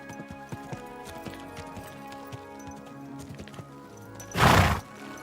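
Hoofbeats clop along steadily under a low game soundtrack, then a short loud splashing burst near the end.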